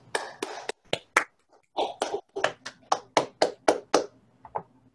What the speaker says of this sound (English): let's give Brett a round of applause.